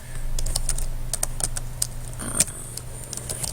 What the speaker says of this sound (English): So we'll type in the structure name.